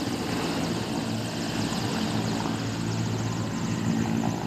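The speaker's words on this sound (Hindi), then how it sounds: "हेलीकॉप्टर में उन लोग बैठ चुके हैं, हेलीकॉप्टर चालू है।" Helicopters start up and lift off from a ground at the Kashi Vishwanath Corridor inauguration. A loud, continuous rotor roar with dense whooshing fills the air and no talk is heard.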